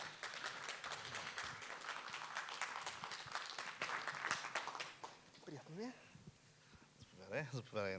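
Audience applause at an e-commerce event welcomes a panel speaker to the stage. Steady clapping runs for about five seconds, then fades as a voice begins talking over it.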